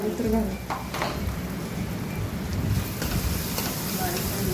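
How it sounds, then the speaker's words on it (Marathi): A spice mixture of turmeric, red chili powder and coriander powder is stirred in hot oil in a pan, giving a continuous soft sizzle with scraping and a few sharp clinks of the utensil. "सर्व मिश्रण एकत्र करून घेऊया"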